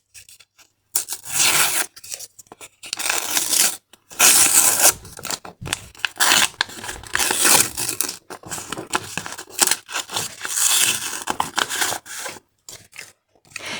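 Paper surprise packet being unpacked by hand, with bursts of rubbing, crinkling and tearing paper up close, separated by short silent pauses.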